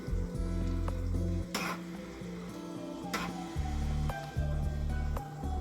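Close-up stirring of spaghetti in a pot of boiling water, with soft scraping and bubbling over a low hum, broken by a couple of brief clattering knocks.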